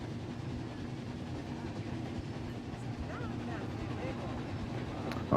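Train rolling along its rails in the Planet Coaster 2 park-building game, a steady low rumble with faint rhythmic clatter continuing throughout at moderate volume, with a person talking over it.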